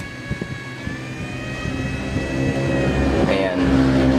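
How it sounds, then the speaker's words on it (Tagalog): A steady electric blower on an automatic cooling fan whirs, its whine climbing in pitch and growing louder as it speeds up, with a few soft knocks early on. "Pipigaan ko yan, lalakas yung blower."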